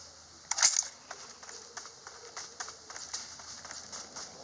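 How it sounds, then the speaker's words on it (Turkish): Gun reloading in the PUBG Mobile video game: a sharp mechanical click near the start, followed by faint, irregular metallic handling clicks at low volume. "Şimdi mermiyi dolduralım."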